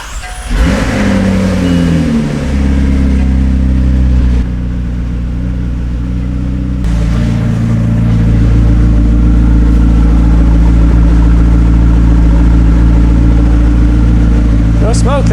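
A $38,500 McLaren with a repaired limp-mode fault rumbles loudly up close, its deep engine note rising and settling through revs, with a shift in tone partway through and a brief squeak near the end.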